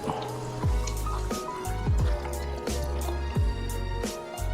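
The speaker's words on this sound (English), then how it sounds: "Now you want to add your beef to your marinade sauce. Mix it." Raw beef for Mongolian beef being worked by hand into a marinade sauce, giving close, wet squelching and squishing sounds that repeat in an uneven rhythm roughly once a second.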